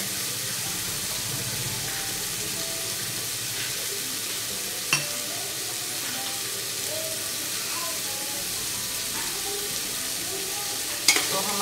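Spices and curry leaves frying in a pan sizzle steadily after a little water is added during cooking of soybean masala rice, a continuous loud hiss with a couple of brief clinks along the way.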